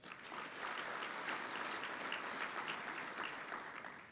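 Audience applause at a port authority's State of the Port event, steady clapping from a large crowd sustained for about four seconds without talk.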